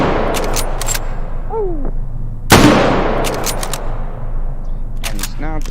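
Gunfire at a target in the VR shooting game H3VR, with a loud single shot ringing out amid mechanical clicks and handling sounds, and a brief exclamation from a voice.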